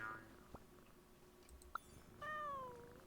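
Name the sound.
cat meowing in video game Genshin Impact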